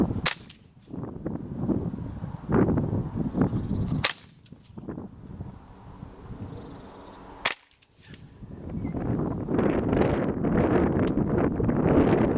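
An air gun fires Remington Subsonic pellets over an F1 chronograph outdoors, a few sharp, isolated cracks spaced seconds apart over steady wind noise.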